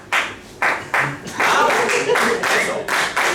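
A group in a presentation room clapping hands together in a rhythm, sharp repeated claps forming a steady pulse, close and loud, with voices mixed in.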